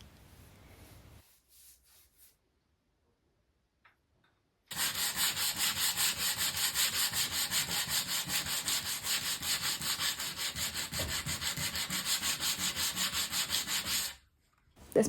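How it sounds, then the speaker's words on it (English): Sanding on parts of a vintage wooden Macomber floor loom gives a steady, close rasping rub that runs continuously for about ten seconds after a few faint scrapes and a quiet pause. "I carried on doing more sanding"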